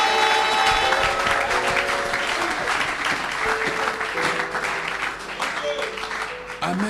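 A church congregation at a Sunday service applauds steadily and loudly throughout, the dense clapping joined by scattered voices and musical tones underneath.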